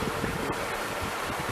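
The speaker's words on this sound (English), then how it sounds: "well, the wind is coming from the southwest, I guess." Wind buffets a small solar electric catamaran crossing a bay, a steady close rushing noise over the microphone with faint water wash beneath and no talk.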